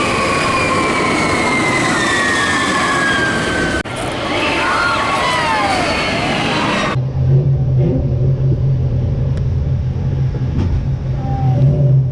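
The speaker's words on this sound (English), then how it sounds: "Here we go, time for Radiator Springs Racers." Ride cars at Radiator Springs Racers in Disney California Adventure rumble and whine like a rail vehicle, loud and close, with a shift partway to a lower steady drone and light squeals.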